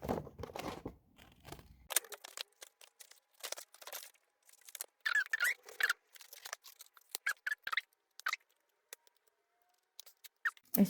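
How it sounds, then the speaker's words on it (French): Scissors snip through a paper envelope in short crisp cuts that come in irregular bursts with quiet gaps between them, close and fairly soft, while a voice speaks briefly at the start. "Vous pouvez découper à ras de l'enveloppe."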